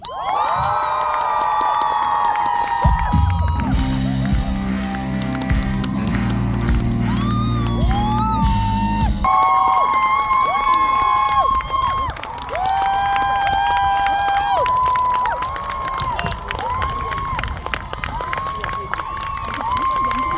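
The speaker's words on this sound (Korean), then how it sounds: "여러분 소리 질러 주십시오" An outdoor crowd at a military band ceremony cheers, whoops and shouts continuously and loudly, with high-pitched voices and applause. Brief tones and sustained notes sound through the noise.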